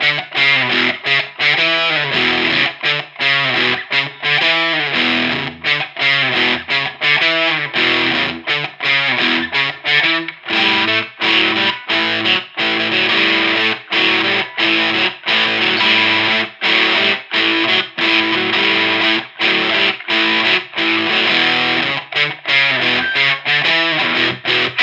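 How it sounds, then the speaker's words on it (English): A heavily distorted electric guitar churns through a chugging groove via a Walrus Audio Fundamental distortion pedal, loud and dense with rhythmic palm-muted stops and bursts. "Then you kick on the distortion and you go into this groove"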